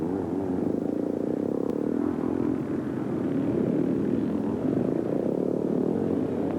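1950s scrambling race with a 250 Greeves and a 440 BSA: a steady, droning engine roar from the motorcycles, fairly distant and continuous, with no clear gear changes.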